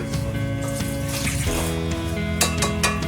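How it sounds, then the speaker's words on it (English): Two cups of water pour into a cooking pot for smothered chicken, a loud, continuous splashing pour with ringing pot tones and a few clinks near the end. "So you add your 2 cups of water to that."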